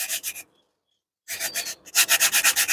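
Rubbing and grinding the surface of a Manasha idol in quick rhythmic scrubbing strokes, close and bright, in two bursts separated by a silent pause.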